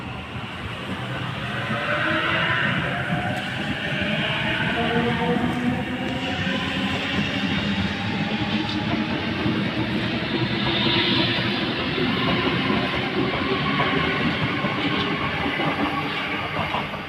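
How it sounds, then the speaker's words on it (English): A Sydney Trains B set train pulls in with a loud, steady rolling rumble and rhythmic wheel clatter that builds over the first couple of seconds and holds, close and continuous. "Here comes the B set."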